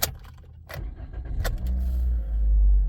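A key-start car is cranked, with keys jangling and clicking in the ignition before the engine catches and settles into a loud low idle close by.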